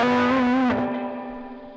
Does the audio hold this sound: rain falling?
no